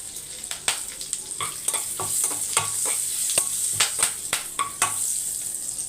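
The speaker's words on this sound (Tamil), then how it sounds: "இப்போ சோம்பு பொரிஞ்சவொடனே பிரிஞ்சி இலை ரெண்டு பச்சை மிளகாய்" Fennel seeds, bay leaf and green chilies fry in hot oil with a bright, crackling sizzle broken by frequent sharp pops and clicks of stirring in the pan.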